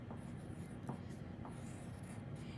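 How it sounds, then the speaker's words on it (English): Pencil writing a name across the top of a sight-word worksheet, faint soft scratching strokes over a steady low background rumble, close and quiet with no talk. "I'm going to write my name on the top first."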